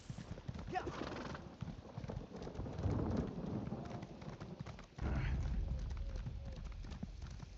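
Galloping hooves of a horse ridden at full speed in the video game Elder Scrolls Online beat in a rapid, continuous clip-clop, with a brief whinny, under game ambience and a player's voice.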